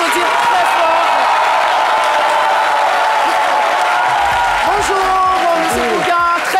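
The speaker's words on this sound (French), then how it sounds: "Je vous demande de l'applaudir très fort." A studio audience on the French daytime show C'est Midi gives a surprise guest loud, sustained applause as a dense wash of clapping, with someone speaking over it near the end.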